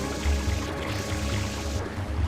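Water spraying from FLUDD, the water pack in the game Super Mario Sunshine, a steady rushing gush that runs the whole time, joined by low thumps and busy game music.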